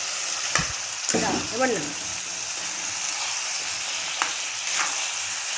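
Chicken pieces hiss and sizzle steadily in a hot pan, with a few louder splutters and stirring clatters; someone speaks briefly over the frying.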